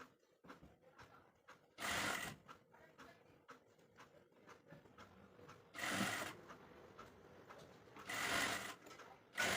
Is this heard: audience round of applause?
no